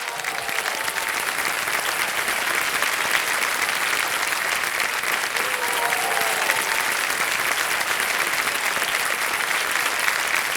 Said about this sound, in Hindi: ताली बज जाए इनके लिए